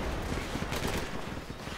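Gunfire in a tactical military shooter game, a dense crackling burst of rapid shots close by that fills the short moment without pause and with no talk over it.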